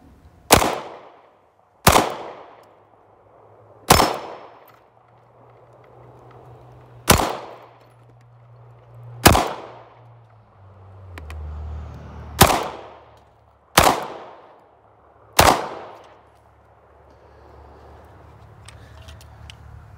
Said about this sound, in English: let's shoot some steel and a bowling pin.